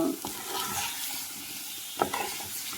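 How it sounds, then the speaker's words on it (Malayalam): Leafy greens being stirred in a pan after salt goes in, making a faint, steady sizzle with soft scraping and one brief louder clink near the end. "അതുകൊണ്ട് നമുക്കിത് അവസാനം ഉപ്പ് ചേർത്ത് ഇളക്കിയാൽ മതിയാകും."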